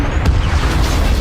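A helicopter crashes in a film with a loud, deep explosion: a sharp initial blast followed by a heavy, sustained low rumble that fills the whole moment.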